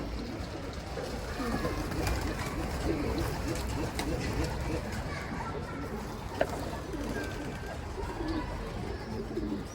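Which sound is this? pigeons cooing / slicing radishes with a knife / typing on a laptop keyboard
pigeons cooing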